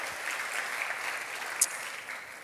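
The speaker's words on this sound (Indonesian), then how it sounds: "tepuk tangan dulu buat teman-teman muda kita" Congregation applause for the young people at a church service, a sustained even wash of clapping throughout, moderately loud and fairly close.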